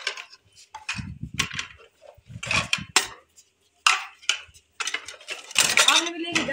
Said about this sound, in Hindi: तो ये सारे जो बर्तन है ना बच्चों ने मेरे साथ हेल्प करवा के ना यहाँ पे रखवा दिया है।